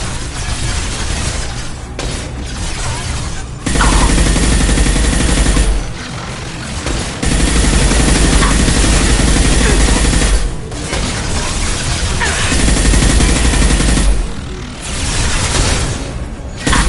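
Sustained, heavy gunfire in a Mass Effect 2 video game firefight: loud, continuous automatic shots and impacts that drop out in short gaps and then resume.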